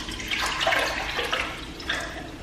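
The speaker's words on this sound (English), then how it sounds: "gonna pour in the 4 cups of water into this pot right here to bring it to a boil." Water pouring from a cup into a cooking pot for pasta, a short close, splashy rush that swells and trickles in uneven bursts.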